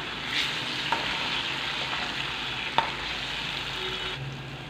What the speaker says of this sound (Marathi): कोथिंबीर आणि आल्याची पेस्ट थोड्या वेळ 2 ते 3 मिनिटं आपण तेलामध्ये परतल्यावर